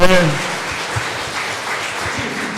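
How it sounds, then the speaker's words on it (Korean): A church congregation breaks into brief applause during a service, a soft, diffuse wash of many hands clapping at a distance, with a voice briefly audible at the start. "박수 한번 해주시기 바랍니다"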